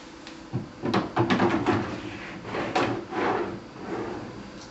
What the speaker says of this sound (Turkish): diğer çekmecemizi de takıp